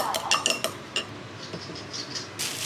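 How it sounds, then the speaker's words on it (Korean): Eggs whisked in a bowl at home, a quick run of light utensil clinks against the dish followed by softer intermittent taps, close and fairly quiet with no talking. "엄마 계란 섞는데."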